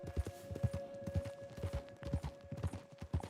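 A horse trots along in Red Dead Redemption 2, its hooves clip-clopping in a quick, steady rhythm, faint and close, over a soft sustained background tone.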